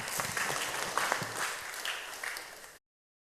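A round of applause from a church gathering, a fairly faint, steady patter of many hands clapping that rises slightly then fades and cuts off abruptly.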